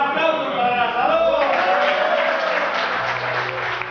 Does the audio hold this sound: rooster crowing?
no